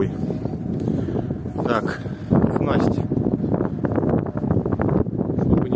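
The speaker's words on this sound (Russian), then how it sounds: "сейчас боковой ветер присутствует. Я думаю, в микрофон замечательно слышно." Strong crosswind of about 3-4 metres per second, blowing at 90 degrees, buffets the microphone in a constant rumbling roar while someone speaks over it.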